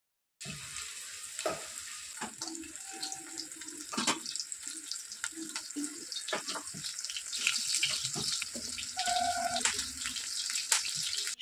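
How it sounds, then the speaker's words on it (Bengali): Chicken pakoras deep fry in hot oil, with a steady close sizzle and bubbling that runs throughout, broken by occasional clinks and stirring sounds and no voices. "সমস্ত পকোড়া এইভাবে ভেজে তুলে নেব"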